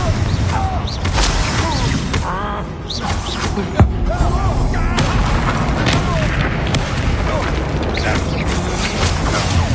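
Confringo blasting spell explosions in Hogwarts Legacy, loud booms and crashes mixed with clanking combat effects and dense game audio throughout, with brief voices in the background.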